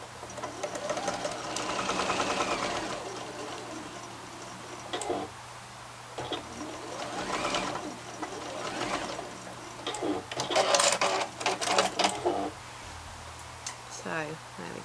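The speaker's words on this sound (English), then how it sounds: "what we want to do is stitch around the lower edge" Sewing machine stitching around the lower edge of a fabric face mask with a one-centimetre seam allowance: quiet, rapid mechanical whirring in several short runs with pauses, under a speaking voice.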